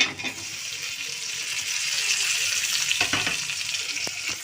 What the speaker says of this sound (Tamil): தக்காளி வந்து ஒரு நல்லா வதங்கணும்